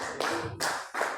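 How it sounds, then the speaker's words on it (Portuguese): A church congregation claps their hands together in unison during a worship service, three sharp, evenly spaced rhythmic claps, close and clear. "E as palmas para o Senhor."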